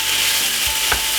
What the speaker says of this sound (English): put a little bit of butter in the pan